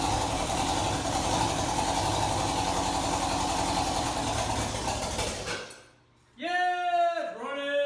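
A junkyard Dodge 2.2L turbo engine idles on a stand with a steady, loud mechanical drone, then cuts out briefly before voices rise over the quiet.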